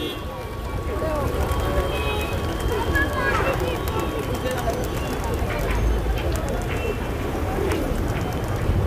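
Flock of pigeons lifting off together at a busy Dadar market in Mumbai, a continuous flutter of wings and cooing under steady crowd noise, with someone talking throughout.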